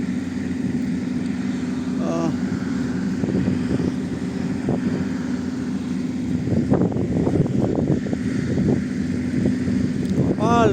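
Strong sandstorm wind blowing steadily through an afternoon in Saudi Arabia, a continuous broadband roar with gusty swells, mixed with a low engine-like hum and occasional bursts of background noise; people talk nearby.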